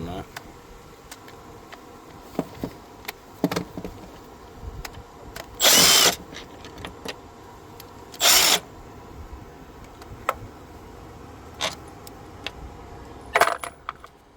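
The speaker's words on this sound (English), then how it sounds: "Make this a little bit quicker and put it on an electric ratchet." Electric ratchet spinning bolts out of a Toyota Sienna 3.3 intake, heard as two loud, short buzzing bursts among scattered clicks and metallic taps in a quiet garage.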